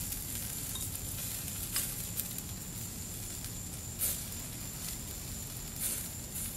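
Snails grilling with scallion oil, a steady soft sizzle and crackle with a few brief louder spits, fairly quiet and with no talking.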